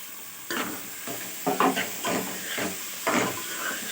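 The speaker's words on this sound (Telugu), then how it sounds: "ఇప్పుడు ఇది వేగుతుంటుంది, మనం మూత పెట్టేసుకుందాం." Ivy gourd (dondakaya) curry sizzles and hisses in a hot pan, with repeated stirring scrapes arriving in irregular bursts over a steady frying sizzle and no talking.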